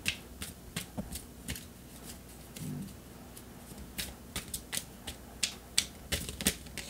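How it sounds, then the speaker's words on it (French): Tarot cards are drawn and laid down during a sentimental reading, making a series of soft, sharp taps and flicks with irregular timing, close and fairly quiet, with no talking. "je vais recouvrir encore une autre carte"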